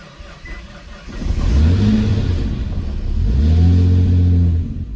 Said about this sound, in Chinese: 没想到竟然一次启动成功